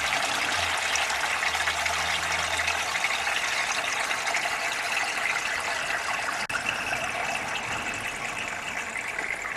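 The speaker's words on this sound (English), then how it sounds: "I'll fill the first tub. As soon as it reaches that this section here, it will go through and down into the next tub. filling up nicely." Water runs steadily into the first tub of a homemade DIY pond filter. A continuous, fairly loud gushing and trickling goes on throughout, with a faint low hum early on.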